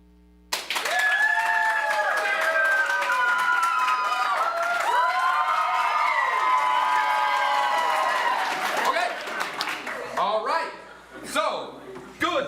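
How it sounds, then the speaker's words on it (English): A live theater audience at a main stage show in Provo, Utah bursts into loud, sustained applause and cheering that lasts several seconds before fading into scattered claps and voices. "please put your hands together for the opening night"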